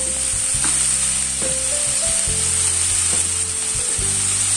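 Onions frying in hot oil in a pan, a loud steady sizzle close by, with low clunks of a utensil moving through the pan; no one speaks.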